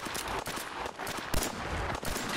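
Rapid, dense gunfire in modded Fallout 4, with a continuous barrage of loud shots, one sharper blast standing out partway through, and no talking.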